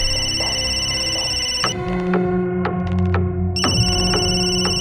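A telephone rings on and on without being answered, a loud and steady electronic tone broken by short gaps, close by, with a little background clatter and no talk.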